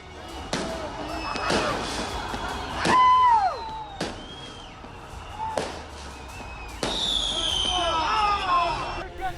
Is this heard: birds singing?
no